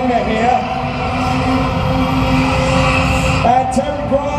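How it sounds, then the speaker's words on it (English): Jaguar convertible spinning donuts in a live action arena at a car show, its engine roaring steadily and loud throughout, with an announcer talking over it. "the Jaguar convertible then donutting in the middle of the live action arena here"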